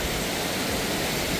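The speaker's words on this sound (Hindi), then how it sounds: "कितने प्यारे झरने के नीचे मजे ही आ गए बैठ के" A waterfall in Yousmarg, Kashmir roars as a dense, constant broadband rush, close and enveloping, with no voices.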